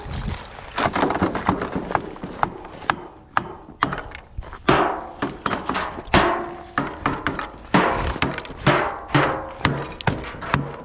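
Repeated sharp knocks ring out in an uneven, steady rhythm, like nails being hammered into wood nearby, with no talking.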